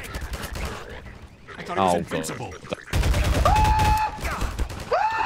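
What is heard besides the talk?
gunfire from the video game Half-Life 2 (Synergy mod)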